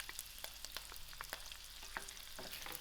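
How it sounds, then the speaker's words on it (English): Chilies, curry leaves and garlic fry together in a pan for a loki and dried shrimp dish, a faint, steady sizzle with scattered small pops and light stirring clicks close by. "I will allow these to fry together"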